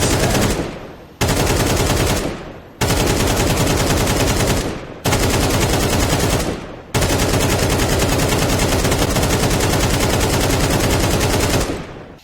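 Sustained automatic gunfire from Counter-Strike 2, loud and close, in long bursts separated by brief pauses, with no talking over it.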